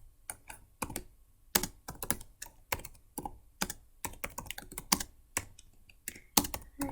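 Typing a message on a computer keyboard: quick, irregular clacks of keys pressed close to the microphone, in uneven bursts with short pauses, with no voice.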